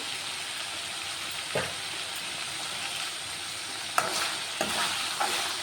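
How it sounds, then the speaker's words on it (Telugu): Chicken pieces seasoned with turmeric and salt are stirred as they fry in a pan, giving a steady broadband sizzle with a few sharp scrapes of the spoon near the end. No voices. "ముక్కలు కలిపిస్తున్నాను ఈ ముక్కలు ఇంకా కొంచెం ఫ్రై అవ్వాలి"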